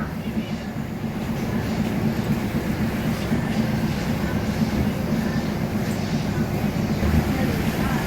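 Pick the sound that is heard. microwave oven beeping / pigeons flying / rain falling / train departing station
train departing station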